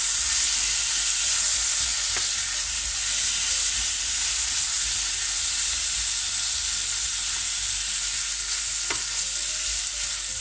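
Sliced onions and tomato cooking in a hot pan for an onion tart, a continuous close crackling sizzle with steady hiss and occasional faint stirring clicks, no voices.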